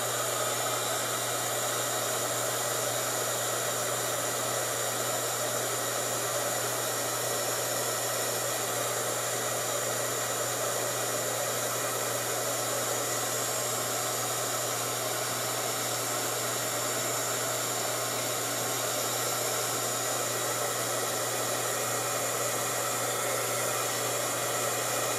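A hair dryer blows steadily over freshly splattered paint, a loud, constant whooshing whir with a low motor hum that holds unchanged throughout, close and with no voices.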